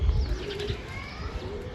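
A pigeon cooing with soft low throaty calls amid an outdoor rooftop ambience, faint and a little distant, with a brief flutter of movement and background noise throughout.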